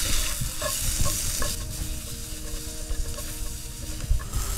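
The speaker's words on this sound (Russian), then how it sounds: "И перемешиваем." Hungarian paprika paste is stirred in a sizzling frying pan while making shakshuka outdoors on a fishing trip, with a continuous fry hiss and repeated scraping strokes close by.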